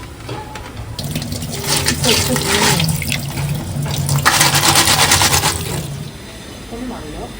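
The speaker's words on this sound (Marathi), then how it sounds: "हे नांगे आपण आता स्वच्छ धुवून घेऊया व्यवस्थित" Crab claws are rinsed clean under running water. A steady, close splashing gush rises for several seconds and then fades, with a voice speaking at times alongside it.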